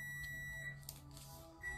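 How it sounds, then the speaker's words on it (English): Electronic alarm beeping indoors, a thin high-pitched tone that sounds, breaks off and returns near the end, faint under a steady background hum. "Could you like turn that alarm off?"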